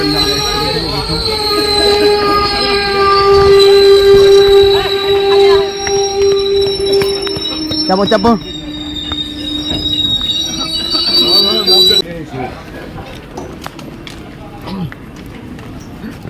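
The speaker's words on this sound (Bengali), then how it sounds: "কাঞ্চনজঙ্ঘা এক্সপ্রেস ট্রেন ঢুকে গেছে অলরেডি" The Kanchenjunga Express pulls into Farakka station with long, loud, high-pitched wheel squeals over a rumbling run of coaches that gradually slows, while people on the crowded platform shout and talk.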